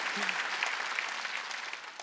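A church congregation claps hands steadily during a Korean Wednesday worship service, dense continuous applause filling the space without pause.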